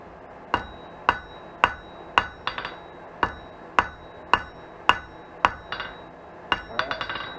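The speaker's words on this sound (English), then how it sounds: "I like to tighten it up down here just by tapping the twists" A hammer taps a hot forged wheat or chevron twist handle, about a dozen sharp, close metallic strikes at a steady pace, some with quick double bounces, ringing over a low forge hum without talk.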